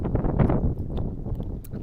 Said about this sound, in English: It is getting really windy out here